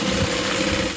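A sewing machine stitching, a continuous fast mechanical whir and hum at close range, steady and fairly loud for about a second before trailing off slightly.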